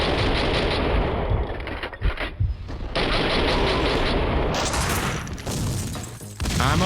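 Loud gunfire and a grenade explosion in the video game Max Payne 2: dense rapid bursts of shots and booming blasts that cut out briefly, then resume.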